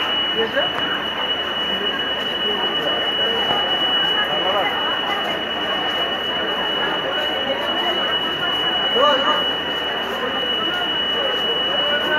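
A busy station platform during heavy rain with a steady low rumble of a train pulling in, overlaid by crowd chatter and a constant high electrical whine.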